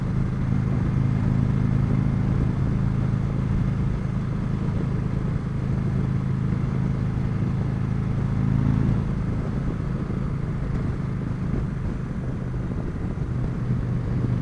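Steady low engine drone of a 2015 Victory Cross Country motorcycle held in fourth gear while riding, a continuous rumble with wind noise throughout and a slight change in tone partway through.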